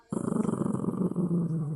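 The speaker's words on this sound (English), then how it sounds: "What are you growling about, Grump?" A dog growls in a low, continuous rumble that starts abruptly and holds steady, close and fairly loud, with a slight pulsing texture and no talk over it.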